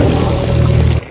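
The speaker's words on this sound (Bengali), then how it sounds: "এবার দিয়ে দেবো ঘি।" Ghee poured into a simmering pan of potol curry with paneer, a steady low sizzling pour lasting about a second before it cuts off abruptly.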